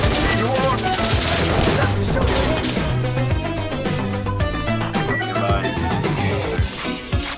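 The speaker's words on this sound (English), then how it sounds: "Okay, we shoot each other." Bursts of gunfire from the shooter video game Insurgency, loud and dense, overlapping a steady tonal bed with voices talking through it.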